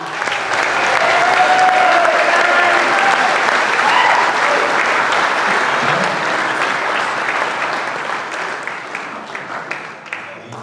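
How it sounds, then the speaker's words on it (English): A crowd at the Koroit Irish Festival gives a loud, sustained round of applause for the festival ambassador, dense clapping that swells early then gradually thins and tapers over ten seconds. "Another big round of applause, everyone."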